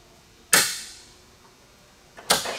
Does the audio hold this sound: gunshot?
yes